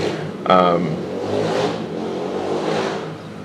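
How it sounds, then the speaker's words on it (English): A motorbike or similar vehicle drives past outdoors, its engine revving with a sharp rise and then a steady broad roar that lingers, moderately loud, while a person talks over it. "sorry about this motorbike or whatever's driving past"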